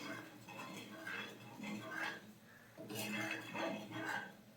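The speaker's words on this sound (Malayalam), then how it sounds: "ഉപ്പിട്ടതിന് ശേഷം നമുക്ക് നന്നായിട്ടൊന്ന് മിക്സ് ചെയ്ത് കൊടുക്കാം" A spoon stirring fish curry in a pot after salt goes in, soft scraping and light clinks repeating in uneven strokes, fairly faint, with a voice talking over the stirring.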